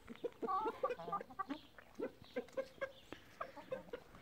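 Blue and Orange Brahma chickens and roosters cluck and call in a backyard run, a busy stretch of short, overlapping clucks and squawks at moderate distance, with no talking.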